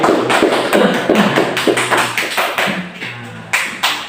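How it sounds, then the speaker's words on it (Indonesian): Applause from a primary school class for a student named Abu after an answer in a social studies lesson: a dense run of claps that holds steady for about four seconds, with a couple of brief louder bursts near the end. "Beri tepuk tangan dulu dong"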